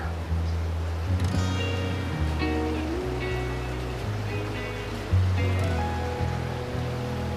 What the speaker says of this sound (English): Here's that cool little cave that the waterfall flows over.